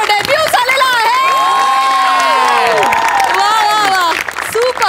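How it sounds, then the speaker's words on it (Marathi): A studio audience at a Marathi comedy show cheers and whoops loudly, with shouting voices and some clapping forming one sustained, lively roar that dips slightly near the end. "आपण हास्य जत्रेचे प्रोडक्शन मॅनेजर सुनील डांगे यांच्यासाठी जोरदार टाळ्या वाजवूया"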